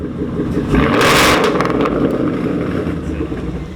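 A Ford Mustang 5.0 Coyote V8 engine revs up in a brief throaty surge, then settles back to a rumbling idle, close and loud.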